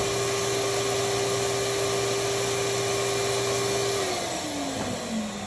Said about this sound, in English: You're going to hold it down until the vacuum stops.